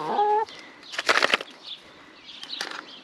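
Backyard chickens during a heat wave give a short cluck near the start, then a loud burst of flapping wings, with softer rustling and fluttering trailing off afterward.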